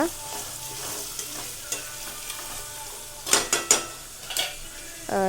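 Egg biryani being stirred in a pot, a soft frying sizzle under scattered scrapes and a few sharper metallic knocks of the spoon against the pot, with no talking.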